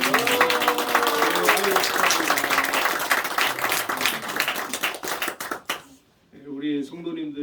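Church congregation clapping together in a dense burst that lasts several seconds and then stops abruptly, followed by someone speaking.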